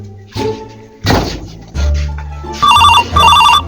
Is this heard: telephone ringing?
yes